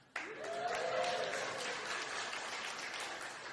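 A church congregation bursts into applause during a sermon, a sudden onset of dense clapping that carries on steadily, with a voice briefly heard over it.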